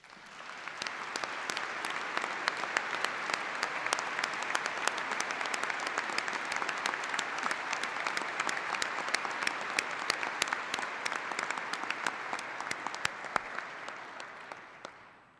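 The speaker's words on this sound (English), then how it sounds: "he deserves a round of applause" An audience at a Saint John's University commencement ceremony applauding, a dense, sustained round of clapping filling the hall for about fifteen seconds before fading slightly at the end.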